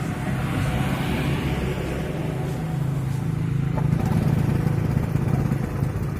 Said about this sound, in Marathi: वरती वळल्याने गाडी लगेच चालू होईल